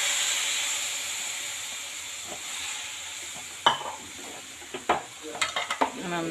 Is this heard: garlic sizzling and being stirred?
yes